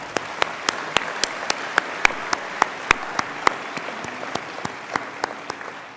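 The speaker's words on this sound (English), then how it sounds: "Could everyone please join me once more in a round of applause for our amazing musicians?" An audience gives a round of applause for musicians at a 2020 senior graduation ceremony, a few distinct loud claps standing out over a steady wash of clapping that holds for the whole stretch.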